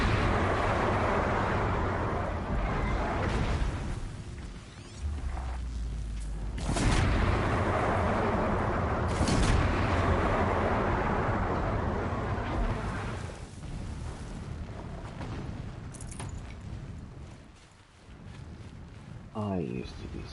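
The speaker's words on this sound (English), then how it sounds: "Explosions in the distance." Distant explosions rumble through a Horizon Zero Dawn game scene, broad low booms rolling under continuous wind-like game ambience, with a few sharper bursts around the middle.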